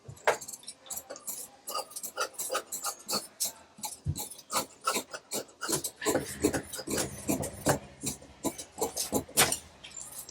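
Scissors snip through blouse fabric for a 38-size blouse, making a steady run of quick, crisp cuts close to the listener with no talking.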